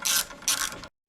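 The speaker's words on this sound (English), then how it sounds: "It's a 3/8 socket right here. And it just loosens." A 3/8 socket ratchet loosening a bolt on a Harley-Davidson Tour-Pak luggage carrier, two loud close bursts of rapid clicking, then a brief silence and a short start of another.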